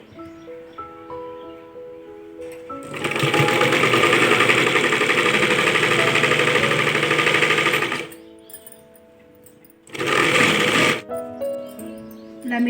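A sewing machine stitches a fall onto a saree in two bursts, one long run of rapid mechanical whirring and a shorter run after a pause, close and loud.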